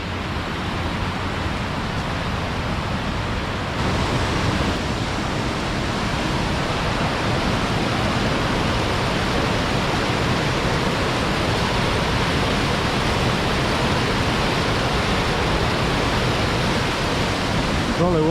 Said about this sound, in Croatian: I ovdje se slijevaju biti dva potoka.